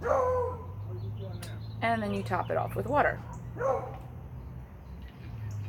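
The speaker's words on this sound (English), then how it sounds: "my dog is like freaking out in the background" A dog barks and yips a few times in the background, moderately loud, while someone talks over it indoors with a low hum underneath.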